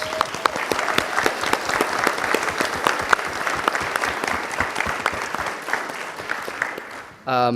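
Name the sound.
audience applause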